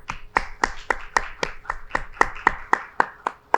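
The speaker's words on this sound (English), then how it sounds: "I want a big round of applause for our keynote speakers." Audience applause for keynote speakers at an opening talk, heard as a small group clapping in a steady, evenly spaced rhythm of about a dozen sharp claps, moderately close with no voices.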